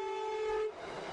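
A Makkah Metro train sounds its horn in a strong, steady two-tone blast that holds for most of a second before cutting off, leaving a rushing rail rumble behind it.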